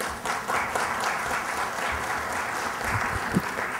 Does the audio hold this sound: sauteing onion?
no